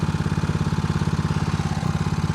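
A homemade outboard motor runs on a small boat in a harbor, its close, loud engine chugging in a fast, steady pulsing rhythm with a rattly tone, briefly dipping near the end, with no talking.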